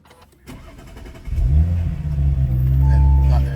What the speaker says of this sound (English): So to start the car, you've got the start button there.